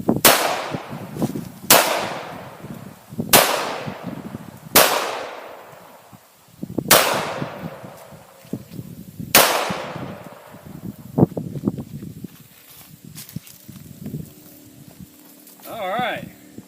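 Seven loud, sharp pistol shots from a Colt 1911 MK IV Series 70 .45 auto, fired one at a time about every one to two and a half seconds, each followed by a ringing decay, with brief talk and small handling noises afterward.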